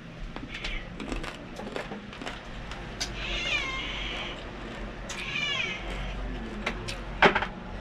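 A cat meows and caterwauls several times in a household, with drawn-out wavering cries over background clatter and a sharp knock near the end; a person also imitates the meowing.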